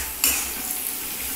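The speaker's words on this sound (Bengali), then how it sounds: "দেখো আলুটাও আমার প্রায় ভাজা হয়ে আসলো।" Potatoes fry in a pan of spice masala for a milk and egg curry, with a steady hiss of sizzling oil and a sharp scrape of the spoon near the start.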